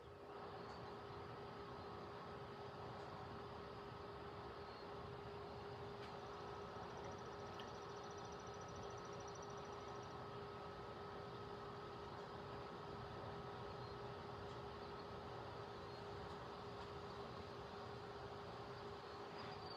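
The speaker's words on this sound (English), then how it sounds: "I hear a train" A distant train rumbles on a stormy evening near Garretson, South Dakota, a faint, steady, continuous roar with a low hum that holds evenly throughout, with no voices.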